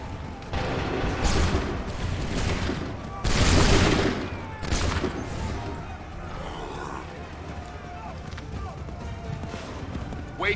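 Musket volleys crackle in the Assassin's Creed 3 video game, dense bursts of gunfire with one heavier volley near the middle, amid battlefield clamour and shouting voices.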